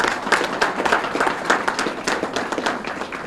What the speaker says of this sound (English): So let's give them a round of applause for all their hard work.